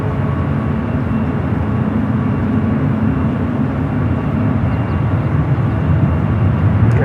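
A Boeing 777-300ER jet at San Francisco airport heading toward the 28 runways gives a loud, steady roar of engine noise that holds without a break, with no voices.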